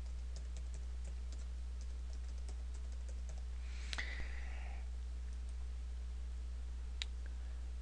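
Quiet clicks of typing on a computer keyboard in a room with a steady low hum, with a few sparse keystrokes and one brighter click burst near the middle.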